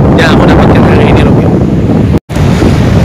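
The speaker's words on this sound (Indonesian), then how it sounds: "melihat deburan ombak, desiran angin menyatu" Ocean waves and wind roar continuously at the shore, loud and close, with heavy wind buffeting the microphone and a brief dropout near the end.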